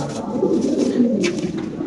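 Lahori pigeons coo continuously in soft, throaty murmurs, close and steady, with several birds overlapping.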